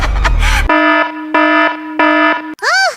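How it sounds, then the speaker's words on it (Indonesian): A CCTV doorbell alarm rings with loud, steady electronic buzzing tones in three repeated bursts, followed by a warbling rising-and-falling chime, preceded by a brief jumble of noise. "Sepertinya suara bel CCTV."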